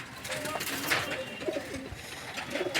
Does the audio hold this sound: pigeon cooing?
yes